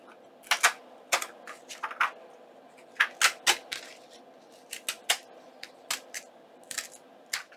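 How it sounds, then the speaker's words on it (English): An art knife slices a page out of a book, giving a series of short, crisp cutting strokes and scratchy ticks in quick irregular bursts, close and fairly quiet, with no talking. "I'm going to grab very quickly my knife, my art knife right here, and I'm just going to cut my page like that"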